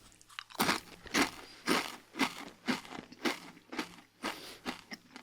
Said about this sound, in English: I'm sure you can hear that. That is so crunchy.